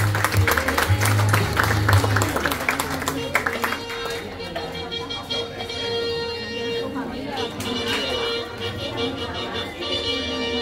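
An audience claps for a student receiving a ninth-grade diploma at a school graduation ceremony. The applause is dense and lively at first, then thins into scattered claps while a voice speaks over the room.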